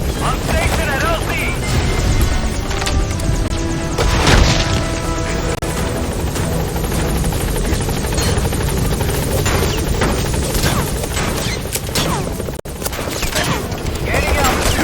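An enemy helicopter in Metal Gear Solid V drones continuously with a dense rotor roar, mixed with crashes, impacts and gunfire bursts, while game voices talk over the din.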